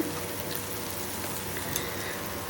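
Potato and drumstick curry stirs and fries in a pan, giving a steady, moderate sizzle with faint scraping throughout and no voices.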